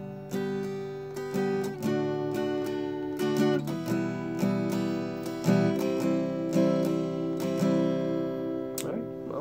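Acoustic guitar strums the chord progression of a song intro, repeated rhythmic strums ringing close and clear with no voices over them.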